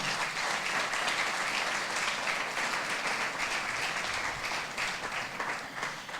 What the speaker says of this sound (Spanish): Denle un aplauso al Señor, hermano, para que no se me vaya a dormir